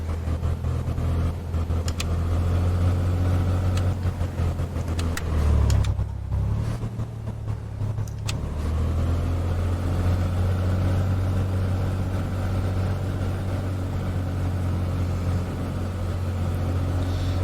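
A Cessna 182 piston engine idles in a Prepar3D flight simulator during a magneto check, giving a loud, steady droning hum that briefly sags and roughens partway through, then settles back to an even run.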